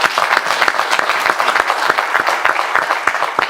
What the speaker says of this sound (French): Ils ont énormément applaudi, mais ils peuvent s'applaudir eux aussi.